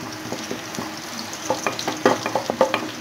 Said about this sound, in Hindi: पेंयाज आदा रसुन हालका करे आमी 1 मिनिटेर मतो फ्राई करे नेब